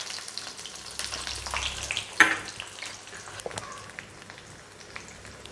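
Ten finely chopped garlic cloves sizzle in hot oil with mustard seeds and fennel, a steady soft frying crackle with a brief stir and clatter in the middle, close and without talk.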